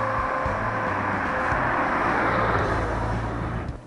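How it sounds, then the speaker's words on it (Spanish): A car passes by on a road, a steady loud engine and tyre rumble that holds close for several seconds before fading away at the end. "viene otro coche"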